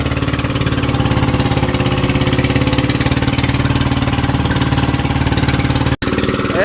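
A fishing boat's engine runs hot while underway toward Calagwas, giving a loud, steady, rapid mechanical chugging that stays close and constant, with one sharp brief dropout near the end.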